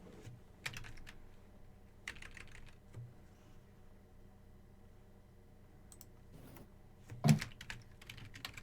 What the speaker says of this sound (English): I can finish typing all that up